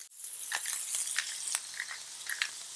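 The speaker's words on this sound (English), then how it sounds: "Hear that sizzle?" Steady crackling sizzle of thick burgers frying on a hot grill, with scattered pops and spits throughout.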